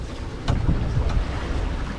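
A sailboat's engine drones steadily under heavy wind and the wash of a cross swell during a night crossing from Blanes to Majorca, with water slapping against the hull.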